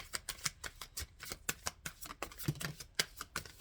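Tarot cards shuffled in quick, steady riffling bursts, a dense run of crisp papery flicks close by with no talking.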